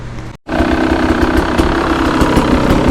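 A 2022 Beta 300RR Race Edition dirt bike engine idles steadily close by, a continuous loud two-stroke drone with light vibration, briefly cut out near the start before resuming without talk.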